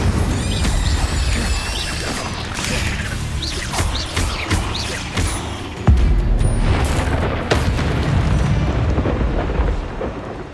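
An Incendio fire spell erupts in the Hogwarts Legacy video game amid spell combat, a loud, dense run of fiery whooshes, booming blasts and crashing impacts, with a heavy hit near the middle.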